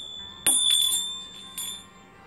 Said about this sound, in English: This is my temporary altar bell,